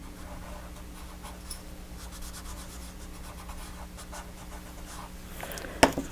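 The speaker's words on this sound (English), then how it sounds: "take my little paper stump and just blend it in" A paper blending stump rubs colored pencil across a handmade Christmas wreath card, a faint, steady, soft scratching that runs throughout, with one brief louder tap near the end.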